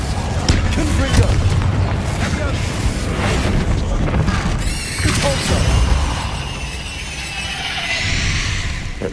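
A Confringo explosive spell blasts in the video game Hogwarts Legacy inside a tomb, one loud booming burst that rumbles on among crackling effects and dense game sound.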